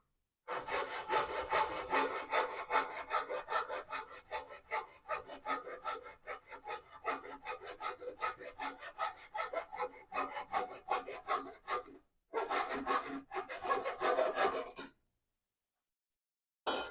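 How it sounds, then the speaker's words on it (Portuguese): A small handsaw cutting wood for a ping-pong table, rapid rasping back-and-forth strokes close to the microphone, continuous for about twelve seconds, then a short pause, a final burst and silence. "eu estou serrando aqui, ó."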